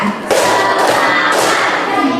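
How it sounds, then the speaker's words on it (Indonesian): A class joins in a rhythmic spirit clap, loud group claps thudding out at intervals of about half a second over a constant din of a crowded classroom with voices. "Kita tepuk semangat."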